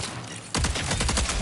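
Rapid bursts of gunfire shooting at enemies in the video game Marathon on PS5 break out suddenly after a quiet stretch, then continue as a dense, loud, close volley of repeated shots.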